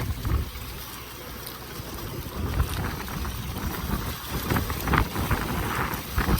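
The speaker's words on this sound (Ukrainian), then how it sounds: "Ще вітер дує." Steady wind blowing across an open wheat field during nitrate fertilizer spreading with an MTZ-892.2 tractor and SZ-3.6 seeder, a broad rumbling buffet with gusty swells and no talk.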